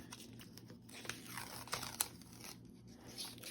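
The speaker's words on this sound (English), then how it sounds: "So I'm just going to go ahead and peel it off." Quiet tearing and crinkling as a paper card is peeled slowly off a sticky Cricut cutting mat, with a few sharper snaps of release over soft, uneven ripping.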